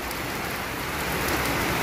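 Heavy rain pours down in a dense, loud, continuous hiss that holds steady and swells slightly toward the end.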